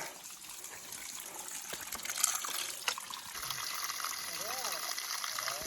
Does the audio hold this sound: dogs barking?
no